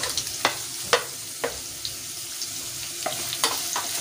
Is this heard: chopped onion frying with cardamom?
yes